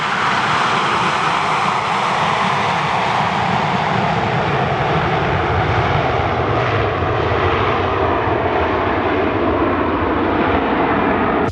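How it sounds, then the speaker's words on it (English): A low-flying airplane passes close over water, its engine producing a loud, steady broadband roar that holds throughout with a slowly shifting tone and no voices. "This plane flying really close to the water."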